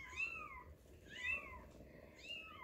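A cat meows three times at an even pace, each call a clear rising-then-falling cry, close and fairly quiet against a soft background hum.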